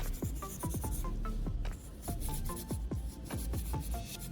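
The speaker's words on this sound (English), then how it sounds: "I gently rub the metal contacts to remove oxidation and dirt buildup inside." Sandpaper rubbing against metal drill battery contacts, a quick series of short rasping strokes repeating at a brisk, fairly even rhythm, close and moderately loud.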